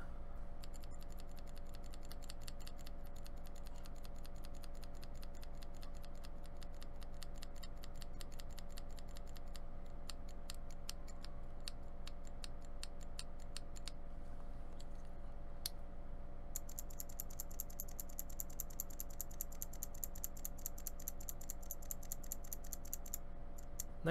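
Typing on a mechanical keyboard fitted with a $19 Amazon ABS keycap set: a steady stream of close, crisp key clacks over a constant low background hum, with no voices.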